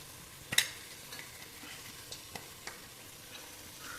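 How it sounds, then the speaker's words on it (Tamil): Onions with ground masala sautéing in a cooker pan for a gravy, a quiet low sizzle broken by a few sharp scrapes and taps of a spoon, close by and without talk. "வதங்கிட்டு வெங்காயம் போடுறேன்."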